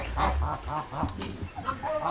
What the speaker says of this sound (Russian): А здесь мы видим бронзовая индейка. Это у нас индюк.